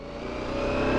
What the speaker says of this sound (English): a little bit of traffic for the morning